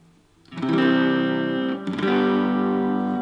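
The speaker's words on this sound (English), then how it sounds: "I'm using a small space echo just to soften the sound a bit" An electric guitar played through two daisy-chained tube preamps and a small space echo gives two sustained, distorted strummed chords, loud and close, with the second striking just before the first fades.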